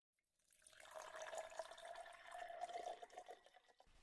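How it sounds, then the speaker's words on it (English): Bourbon whiskey of 104 proof is poured into a glass, a short, steady liquid trickle that fades in, runs for a few seconds and stops; quiet and close with no talking. "Pour just a little bit."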